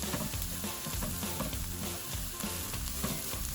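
Spiced potato filling for stuffed pakoras sizzles and fries steadily in a hot pan, a dense continuous crackle with occasional stirring scrapes, close and fairly loud with no voices.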